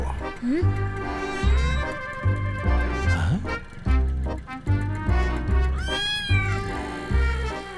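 A cat meows repeatedly in drawn-out, wavering calls, mixed over a steady rhythmic musical backing with a thumping beat.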